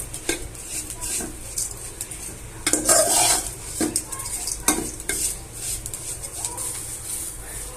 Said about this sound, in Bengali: সেমাইটা লাল লাল করে ভেজে নিচ্ছি এখন আমরা